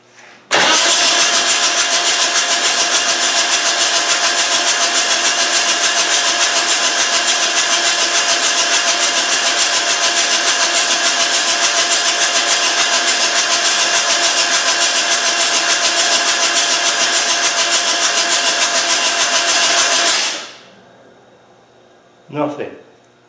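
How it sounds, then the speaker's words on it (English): Land Rover 110 engine, called the Malawi 110, spun over on the starter with its glow plugs removed, a loud fast continuous cranking whir for about twenty seconds, then it cuts off abruptly and a brief clunk follows. "Right, I've got the glow plugs out now. I'm going to spin it again. It should go faster."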